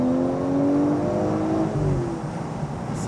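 An Audi S5 Cabriolet V6 engine accelerates with a steady rising drone as the revs climb, heard from inside the car, loud and continuous without speech.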